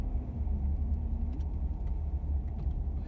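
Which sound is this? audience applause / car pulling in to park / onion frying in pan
car pulling in to park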